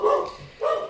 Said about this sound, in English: so if you hear a dog barking